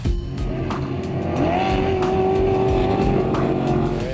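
A short course racing truck drives hard around a dirt track at Crandon, its engine roaring loud and close with a rising and sustained pitch, and brief sharper bursts as it powers through.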